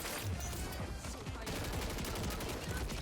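Gunfire from a gun in a video game running on a graphics card setup, a dense fusillade of rapid shots continuing throughout at moderate volume amid game noise.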